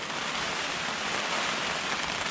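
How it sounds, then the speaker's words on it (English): Steady, dense rain hissing continuously during a Colorado elk hunt on public land, close and fairly loud with no voices. "And what do you know, it's raining again."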